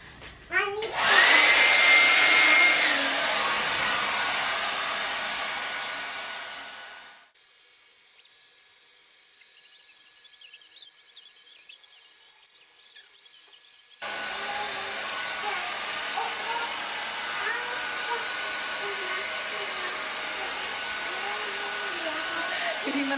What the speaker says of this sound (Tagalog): Blower ko lang yung kanyang buhok.